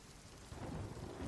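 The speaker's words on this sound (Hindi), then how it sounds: "बारिश हो रही है और मैं बस उसे बैठ कर देख रहा हूँ" Steady rain falling with a low rumble of thunder that swells partway through. The whole scene is faint and distant, with no voices.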